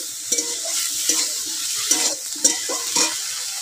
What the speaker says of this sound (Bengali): বেগুনটা এবারে আমি নেড়ে চেড়ে ভেজে নেব